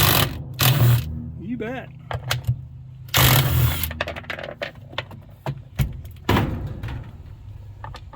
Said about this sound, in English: Let's see if our 18 volt little impact has enough oomph.